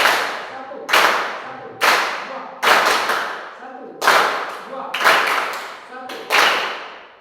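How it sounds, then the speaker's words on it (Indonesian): A classroom group claps in unison on a count, giving seven sharp, loud collective claps at roughly one-second intervals, each with a brief ringing decay between. "Tepuk tangan"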